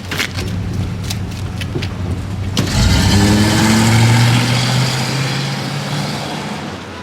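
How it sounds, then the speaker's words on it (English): A period car engine cranks and turns over, then settles into a steady, close idle with a low rumbling hum that slowly eases off. "capturing engine sounds from 9 different period-appropriate cars to use in the final film."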